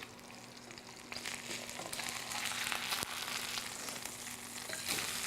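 A flipped sirloin steak sizzles in a hot pan, a dense hiss that grows louder after a second, with sharp spits and crackles close by and no voices.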